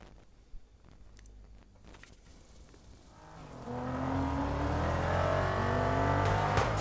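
A Nissan GT-R R35 in the racing game Need for Speed No Limits is quiet with light clatter at first, then its engine surges loud and revs up with rising tones.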